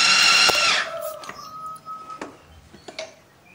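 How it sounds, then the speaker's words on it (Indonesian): Electric grinder blending a seasoned dough mixture for a fasting-month side dish, a loud whirring motor at the start that fades within the first second, leaving quieter clicks and faint mechanical hum. "sekarang kita mau giling lagi sampai nanti tercampur rata dan adonannya itu benar-benar halus banget"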